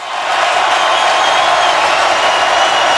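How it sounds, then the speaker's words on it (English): A football crowd in the Superdome roars loudly and continuously, a dense, steady wall of cheering that holds at full volume throughout. "The Superdome crowd, as loud as they have been all day"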